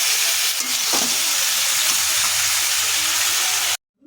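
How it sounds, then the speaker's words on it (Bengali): Fish frying in a wok-style pan, a loud, dense, continuous sizzle with faint clinks, ending abruptly in silence. "এখানে এই যে মাছ ভাজা হচ্ছে"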